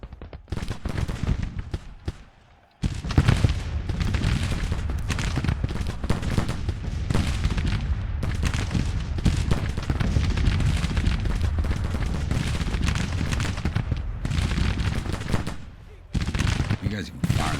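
Massed Civil War musket and cannon fire in the Grand Tactician strategy game: dense, continuous crackling volleys and booms roll on loudly, with brief lulls near the start and end.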